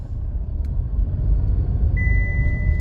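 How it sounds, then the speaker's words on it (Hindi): A 2024 Tata Altroz XE Plus hatchback engine revs in first gear, a low steady rumble swelling slightly, with a thin electronic beep tone entering near the end. "ये फर्स्ट गियर आ गया, रेस देंगे"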